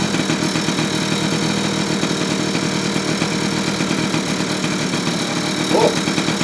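A 1979 Honda Express moped engine idles steadily up close after a carburetor adjustment, an even, continuous putter with no breaks.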